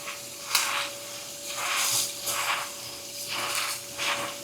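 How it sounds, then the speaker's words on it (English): Tap water rinses spinach in a kitchen sink, a steady hissing spray that swells and fades in repeated bursts as the leaves are moved under the stream, with a faint tonal hum underneath. "Rinse the spinach."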